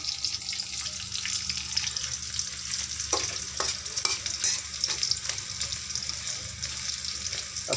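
Pui shak (Malabar spinach) is stirred and fried in a pan over a medium flame, cooked Rangpur style. A steady, bright sizzle runs throughout, with occasional scrape and clink accents from the stirring midway through.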